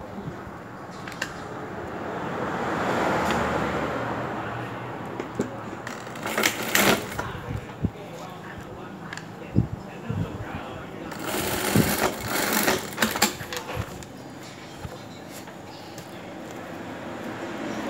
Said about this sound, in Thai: เราก็จะกลับข้างในออกมาเย็บนะคะ